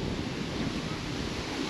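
Steady rushing wind over a choppy lake at a Swiss campsite, waves lapping continuously with a broad hiss and no voices.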